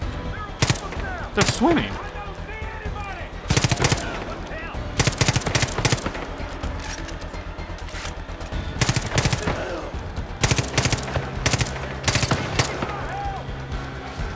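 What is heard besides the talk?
SMG gunfire in video game Far Cry 5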